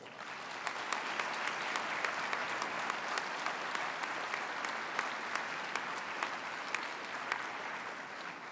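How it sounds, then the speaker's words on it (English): Sustained applause from a large audience honouring staff at an NAHT schools campaigning event, a steady dense wash of clapping with scattered sharper claps, fairly distant and alone without talk. "I invite you to acknowledge them with a round of applause too."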